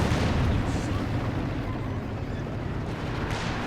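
Panzerwerfer rocket artillery fires in the World War II strategy game Company of Heroes 2, a dense continuous roar of launches and blasts filling the whole stretch with steady loudness.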